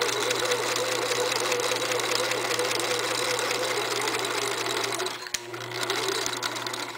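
A sewing machine stitches fabric for a girls' summer top, running with a steady, continuous mechanical hum and rapid needle clatter, briefly pausing with a click before starting again.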